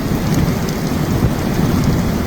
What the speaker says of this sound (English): Heavy rain continued in Altadena and Malibu.